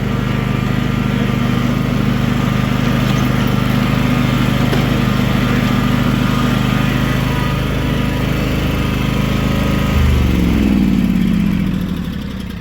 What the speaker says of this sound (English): ignore the lawnmower noise.